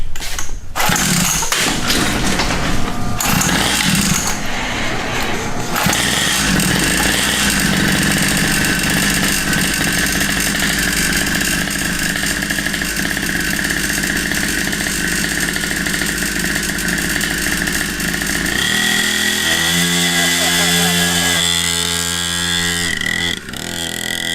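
A cheap two-stroke pit bike bought from Temu sputters through a few start attempts, then catches and runs loud and buzzy up close, with raspy revving and choppy throttle blips near the end.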